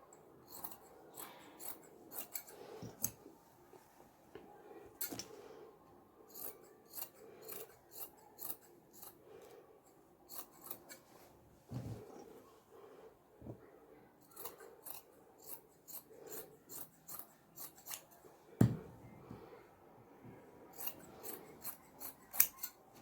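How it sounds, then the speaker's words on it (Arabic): Scissors snip through a fabric pattern piece for a handmade bag, with repeated crisp cuts in irregular bursts and brief pauses, close and fairly quiet with no talking. "هقصه معاكم برضو واوريكم اتقص ازاي"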